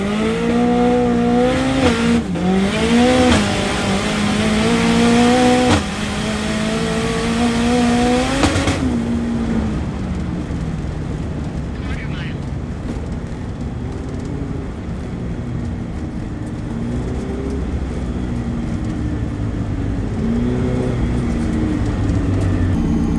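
A Mazda RX-7 pulls hard down a drag strip at Crail Raceway, its engine rising loud through gear changes with climbing pitch, then the note drops away and lingers as a fainter, droning run in the distance.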